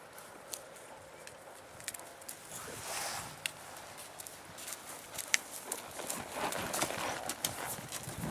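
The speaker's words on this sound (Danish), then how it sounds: "Når man hiver den fremad, vil hesten gerne gå fremad." A horse walks outdoors, its hooves clip-clopping in a steady faint rhythm throughout, with occasional sharper knocks and light background noise.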